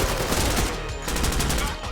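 Gunfire in the tactical video game Door Kickers 2 as a room is cleared: loud, rapid bursts of shots overlapping in a dense, unbroken barrage with no talking.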